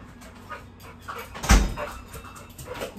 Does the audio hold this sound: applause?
no